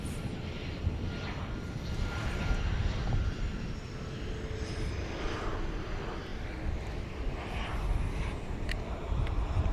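American Airlines Boeing 737-800 landing at night at Dallas Fort Worth airport after a short flight from Austin: a steady, moderately loud jet roar with wind rumble held throughout, no talk.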